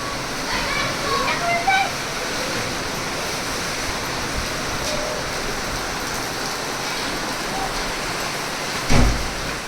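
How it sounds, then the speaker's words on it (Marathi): Heavy rain roars steadily in a dense, windy wash, with a louder gust-driven burst near the end and voices faintly underneath. "वाऱ्याचा पाऊस एकदम वादळी पाऊस आलेला आहे"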